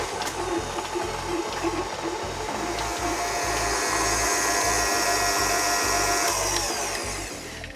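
A mixer creams unsalted butter with caster sugar for a mini Victoria sponge cake, giving a loud, steady whirring drone with a regular pulsing beat from the beaters, running without a break.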